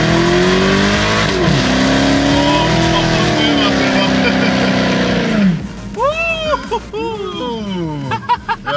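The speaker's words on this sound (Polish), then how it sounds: "no to trzeba było trochę gumy upalić" Car burning rubber as its engine revs hard in a steady, loud roar, then winds down into squealing tires and crowd noise, with voices under the tire screeches near the end.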